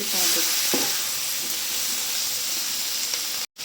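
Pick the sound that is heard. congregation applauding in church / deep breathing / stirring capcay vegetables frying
stirring capcay vegetables frying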